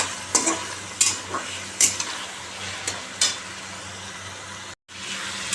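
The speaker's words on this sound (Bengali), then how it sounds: "এই এক ফালির মতন আদা দিয়েছি আর ছ সাতটা রসুন দিয়েছি পাঁচ ছটা লঙ্কা দিয়েছি এইটা এখন লাল করে ভাজবো আমি" Ginger, garlic and green chillies frying in oil in a pan, a continuous crackling sizzle punctuated by several sharp spatula taps and scrapes against the pan, with a brief dropout near the end.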